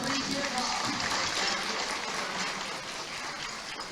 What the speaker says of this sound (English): A big round of applause for Bernie Birbaum.